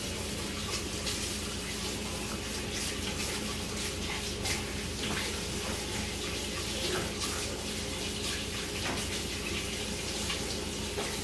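Tap water runs steadily while hands are washed under it in a home kitchen during gnocchi making, a continuous hissing splash that stays even from start to finish with no speech.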